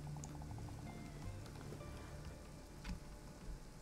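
Rain falling in Minecraft, a soft steady patter of drops, faint and continuous, with a few brief clicks and thuds from the game over it.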